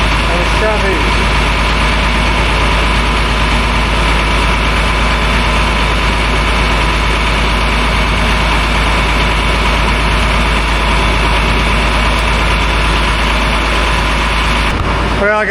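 A heavy engine runs at a raised idle with its RPMs turned up, a loud, steady rumble with constant vibration that holds throughout.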